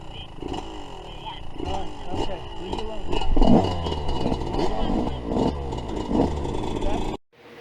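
A Yamaha YZ125 two-stroke dirt bike with a Pro Circuit pipe and a squish-band head is ridden on a track. Its engine revs and falls in surges up close, with voices under it, before cutting off abruptly at the end.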